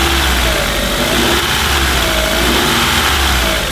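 Car engine running steadily after a timing belt repair, loud and close with a continuous even hum and a faint periodic whine, no talking over it.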